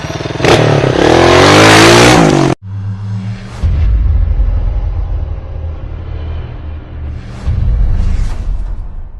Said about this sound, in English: Let's start your engine.